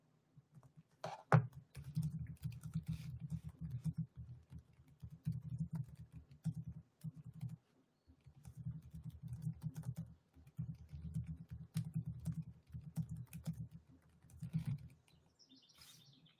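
Soft, quick clicking of a computer keyboard being typed on in bursts, pausing briefly and then resuming, fairly close but quiet, with no talking.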